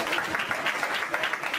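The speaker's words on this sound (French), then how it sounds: "On acclame très fort." An audience applauds in a dense, even patter of many hands clapping, with a voice faintly mixed in.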